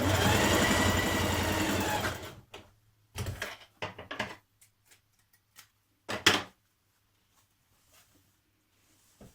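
A sewing machine runs a continuous stitch for about two seconds while joining skirt yoke pieces at the side seam, then gives several short stop-start bursts and clicks before falling quiet.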